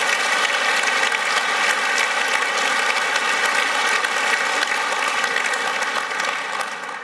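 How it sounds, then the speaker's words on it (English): Sustained applause from a large audience at a gaming convention, dense steady clapping throughout that tapers slightly at the end. "So give a round of applause to Hyperviper, Machiavellian, Oz, Itar, Angry M"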